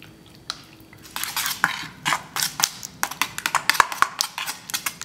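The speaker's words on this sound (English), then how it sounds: "Then I'm gonna mix that all together really well." Water, vegetable oil and fresh eggs for zucchini bread are stirred in a bowl, giving rapid clinking and scraping of a utensil against the bowl in quick irregular bursts, close and fairly loud.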